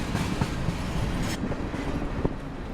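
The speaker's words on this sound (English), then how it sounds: "we chased this train north, getting ahead of it little by little" A train passes on rails in central Florida, led by big yellow and gray engines, giving a steady rolling rumble with faint rhythmic clickety-clack wheel beats throughout, fairly close and with no voices.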